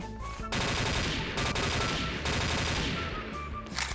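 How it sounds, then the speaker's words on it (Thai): Burst gunfire in the online shooter XSHOT, several rapid shots rattling out in quick succession, loud and close with brief pauses between bursts and no talking. "เอฟเฟกปืนค่อนข้างเท่นะครับ ลองยิงแบบชุดหนึ่งใส่คนนะ"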